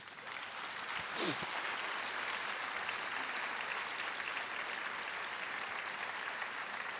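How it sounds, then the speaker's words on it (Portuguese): A church congregation at a Sunday teaching applauds in a low, steady, distant patter that fills the room at an even level, with a brief voice heard over it near the start. "Vamos aplaudir essa palavra."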